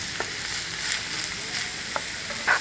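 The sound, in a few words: sautéing ginger, garlic and onions in a pan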